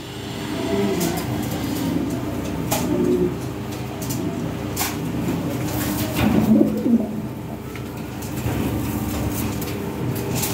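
Lahore Shirazi pigeons, a breeding pair, coo softly in repeated low phrases over a faint hum of background noise, with several sharp clicks and knocks mixed in.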